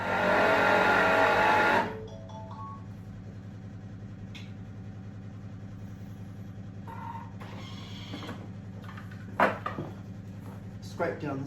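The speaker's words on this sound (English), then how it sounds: "Put the lid on, and this is now going to mix for 20 seconds." A kitchen mixer with its lid on whirs loudly through rhubarb and ginger spelt cake batter for under two seconds, then cuts off, leaving a low steady hum and a few light clicks and knocks.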